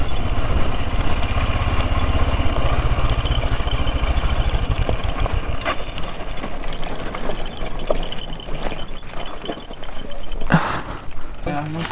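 A motorcycle engine idles with a steady low rumble, loud and close, at a cold campsite in South America while people talk over it; some clattering and rain-like noise join later.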